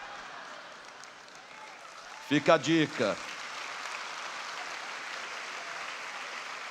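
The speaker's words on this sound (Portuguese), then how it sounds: "Essas palmas são de desespero, eu sei." Church audience applauding during a sermon, a steady rain-like wash of clapping that runs the whole way through at moderate level, with a short spoken phrase cutting in near the middle.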